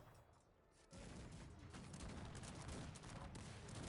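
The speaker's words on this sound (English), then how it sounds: "Try to shoot them down." Musket volleys from grenadiers in Cossacks 3 crackle in dense, overlapping bursts of battle noise, starting after a quieter moment and continuing loud and steady with scattered sharp reports.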